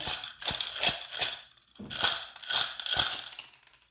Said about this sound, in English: It's going to be very loud. I'm going to shuffle them really quickly.